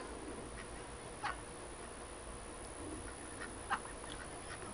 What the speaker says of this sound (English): I guess these ducks are coming over to say hello to me.